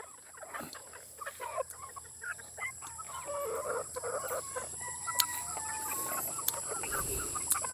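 Four-month-old gamefowl hens cluck and chatter in a farm setting, the calls scattered and moderately close over a steady background hum, with no speech.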